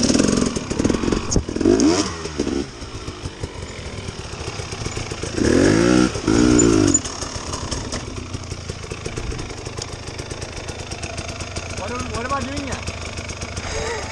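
An enduro motorcycle revs while riding over a log on an outdoor training course, its engine surging in two strong bursts over a continuous rough, clattering idle, fairly close.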